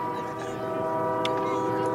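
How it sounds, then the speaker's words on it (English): A train rolls past near a high school football field in Oologah during a Friday night game, a steady tonal rumble and hum with a brief horn-like rise, heard under the crowd atmosphere. "And we got the trains rolling."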